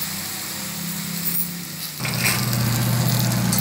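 Eggplant pieces fry in a pan for vankaaya pachhadi, a close, steady sizzle that grows louder and fuller partway through, with no talking.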